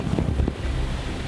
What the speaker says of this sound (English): We're having 26 knots of breeze in the face, big waves also in the face.